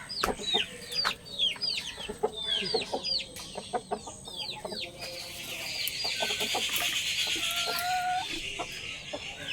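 Backyard country chickens cluck and call excitedly at feeding time, a busy overlapping chorus of sharp squawks and chatter close by, with a steady rustling background and no one talking.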